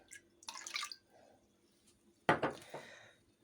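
Rennet diluted with water is poured into milk while making suluguni cheese, heard as two short splashing pours separated by a quiet pause, close by and moderately soft.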